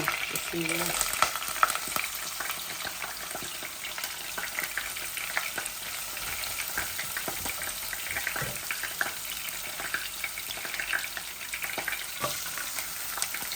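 Onion and chicken frying in a pan for Bangladeshi chicken kosha bhuna, a steady close sizzle with scraping stirs and occasional clinks throughout, no talking.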